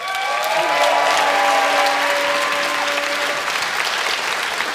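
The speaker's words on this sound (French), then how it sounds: "donnez une bonne main d'applaudissement pour Cédric Bergeron" Steady, full audience applause at a Quebec stand-up comedy show, loud and sustained throughout, with a sustained musical tone ringing underneath.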